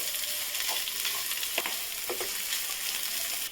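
Onion fries in a pan for a Kolkata-style veg roll filling, giving a steady close sizzle with a few quick scraping stir strokes over about three seconds.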